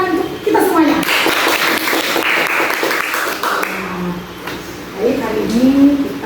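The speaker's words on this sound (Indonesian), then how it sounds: "Tepuk tangan untuk kita semuanya." A university classroom audience in a construction management lecture breaks into applause, a dense burst of clapping lasting several seconds, with voices speaking over and after it.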